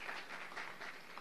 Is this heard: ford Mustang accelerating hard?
no